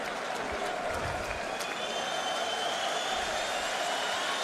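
Sellout boxing arena crowd applauding and cheering Ricky Hatton between rounds of his fight with Kostya Tszyu, a steady roar of clapping and crowd noise filling the whole stretch with a commentator talking over it.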